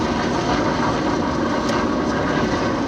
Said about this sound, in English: That sound you can hear is the local heliport.